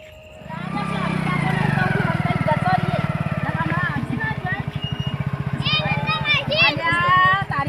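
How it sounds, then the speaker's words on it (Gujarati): A motorcycle starts up and revs nearby, its engine putting along steadily before pulling away, while people talk and call out over it. "બાઇક લઈને જઈએ"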